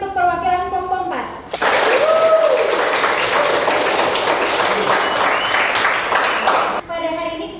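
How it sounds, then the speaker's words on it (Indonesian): A classroom bursts into applause for a group's representative, a dense sustained wave of clapping for about five seconds, framed by someone speaking before and after it. "Beri tepuk tangan untuk perwakilan kelompok 4."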